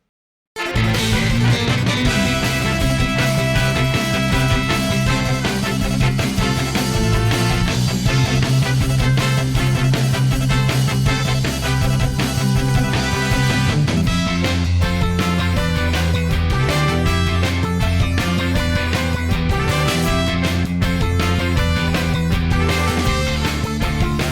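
Energetic, melodic electronic music from Sonic Generations, a remix of an existing track, plays continuously and loudly, with driving bass and layered synth lines, no voices.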